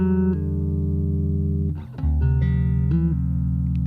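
Bass guitar voicing a minor 7 add 9 chord, the notes ringing together in a sustained chord that shifts shape partway through, with a brief gap before ringing out again, loud and close with no talking.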